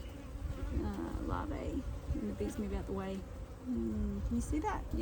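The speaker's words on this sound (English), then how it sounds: "if the bees are not in the way" Honeybees in an opened top bar beehive with visible larvae give a steady, close buzzing hum that runs throughout, while a person talks briefly over it.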